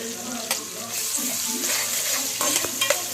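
Onions with turmeric and coriander frying in a pan for a raw prawn gongura curry, giving a soft continuous sizzle with occasional stirring scrapes and clicks up close.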